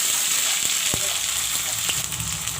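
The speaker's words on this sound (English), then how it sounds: "I will let the onions fry." Onions frying in a pan with dry red chilies for a plain chicken curry, a steady close sizzle with a few faint clinks of stirring and no talk.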